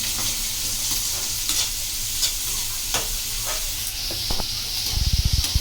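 Onions fry in a pan for a South Indian mushroom palya, a steady loud sizzle broken by scraping stirs, with a rapid burst of clattering near the end.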